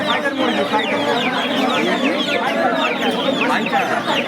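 A fighter chicken clucks repeatedly and loudly at close range, a busy run of choppy clucks and squawks with a background voice murmuring.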